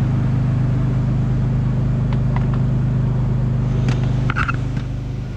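A BMW E39 engine runs through an Earth twin-muffler exhaust, a loud, steady low drone held close with a few faint clicks and knocks on top.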